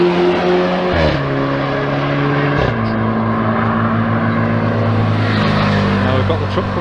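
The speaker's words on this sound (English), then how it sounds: "Now we've got the truck coming out as well" A truck pulls out close by with a steady, rumbling engine note that shifts pitch twice, like gear changes, over a constant outdoor background.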